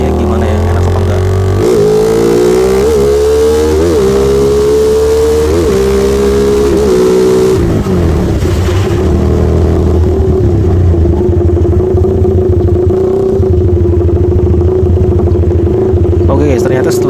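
A Suzuki Satria FU motorcycle engine revs hard with rising and falling pulls through low, mid and high RPM, loud and close, then settles into a steady high drone.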